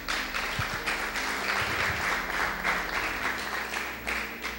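A church congregation applauds during a sermon, a steady wash of many hands clapping at moderate distance, continuous for several seconds with faint voices underneath.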